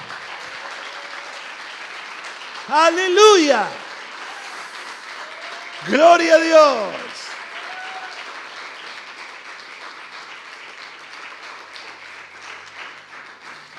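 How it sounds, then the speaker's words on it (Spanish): A church congregation applauds steadily and softly in the background while a preacher shouts two loud exclamations of praise in Spanish over it. "Den un aplauso al Señor"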